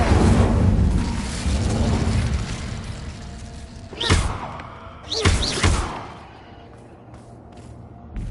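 The Incendio fire spell cast in Hogwarts Legacy lands as two heavy, booming whooshes in quick succession over a rumbling game backdrop, followed by a quieter tail.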